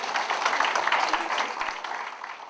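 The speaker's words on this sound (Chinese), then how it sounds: "各位来宾请掌声啊" Guests at a Kuomintang Pingtung chapter chair handover ceremony applaud, a dense, steady wash of clapping from a crowd that fades slightly toward the end.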